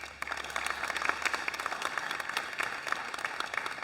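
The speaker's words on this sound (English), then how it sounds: "please give a warm round of applause for Angie Wong from South Australia" Audience applauds steadily for a shooter at a women's 10m air rifle final, a dense, sustained clapping throughout with no talk over it.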